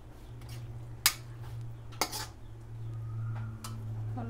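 A spoon scrapes and clinks against a pan while paneer do pyaza is stirred with the flame off. Two sharp metallic knocks stand out over a steady low hum, followed by softer scraping.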